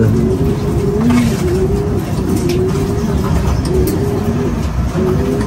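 Pigeons coo in repeated low, rolling calls close by as they wait to enter their loft, over a steady din of traffic.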